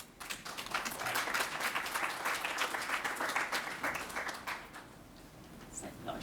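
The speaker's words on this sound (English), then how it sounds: "No, we're supposed to keep clapping, right?" An audience at an LGBTQ+ chamber economic summit session applauds after a talk, a sustained wash of many hands clapping from across a hall, steady then tapering slightly toward the end.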